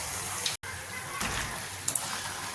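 Rice flour nachos deep-frying in hot oil, a steady broadband hiss with a brief cut near the start and a couple of small crackling bursts, close and fairly quiet, with no voices.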